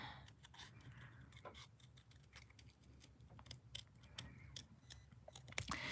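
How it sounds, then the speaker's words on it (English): Scissors snipping a heart shape out of card for a Valentine's card, a quiet series of irregular short clicks and cuts close by, fairly faint, no voices. "Let's just cut some of them sharp edges off of there. And then cut this next heart out here."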